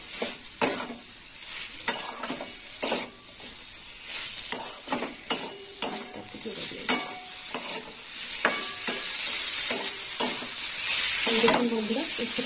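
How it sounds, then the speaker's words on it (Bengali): Bitter gourd being stir-fried with a tomato spice mix in a pan, close and fairly loud: repeated scraping spoon strokes in an uneven rhythm over a steady sizzle that swells toward the end. "দিয়ে দিলাম উচ্ছে, এবার উচ্ছে দিয়ে একটু কষে নেব"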